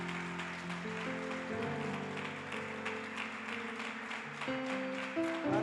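Church congregation clapping steadily along with music, a continuous wash of many hands over sustained organ-like tones, moderately distant.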